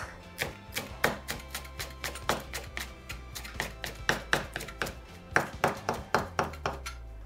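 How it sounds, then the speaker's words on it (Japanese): A kitchen knife chops shiso leaves into thin strips on a cutting board in quick, steady taps, dozens of crisp close strikes in an even rhythm with brief pauses. "大葉を千切りします。"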